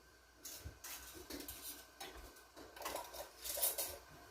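A metal lid is screwed down finger tight onto a glass jar of homemade grape jelly, producing close, faint metallic scraping and clinking in several short bursts, with no talk.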